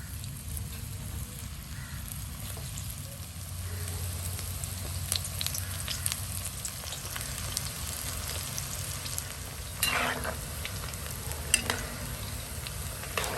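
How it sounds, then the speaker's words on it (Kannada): Soya chunks fry in hot oil in a pan with a steady, moderate sizzle and bubbling over a low hum, broken by a few brief brighter crackles near the end. "ಓಕೆ ಈಗ ಇದನ್ನು ಫ್ರೈ ಮಾಡುವ"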